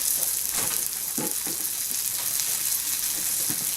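Fish frying in a pan, a steady close hiss of sizzling oil with occasional soft crackles and stirring sounds, no voices.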